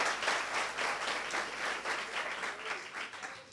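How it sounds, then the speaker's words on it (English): A school audience claps in a steady, dense round of applause that fills the whole stretch without a break, at moderate loudness and with no speech over it. "So a louder round of applause for our school,"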